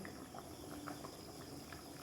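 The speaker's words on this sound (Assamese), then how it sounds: "ঔটেঙা আৰু মাছৰ তৰকাৰী পূৰা উতলি আছে" Quiet, continuous bubbling of a sour fish curry with elephant apple simmering in a pot on the stove, faint and steady with no voices.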